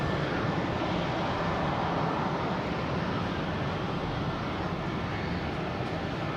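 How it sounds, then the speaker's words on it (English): A JetBlue Airbus A320 arriving from Buffalo at Boston Logan, its steady broadband jet roar loud and continuous throughout, with no voices. "Okay, we got a JetBlue coming in from Buffalo."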